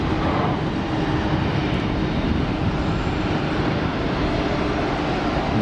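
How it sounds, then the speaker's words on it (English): An Airbus A320ceo lands at Geneva Airport with its clamshell thrust reversers deployed, a loud, steady broadband roar of reverse thrust rumbling continuously with no voices. "Nice bit of clamshell reverser action"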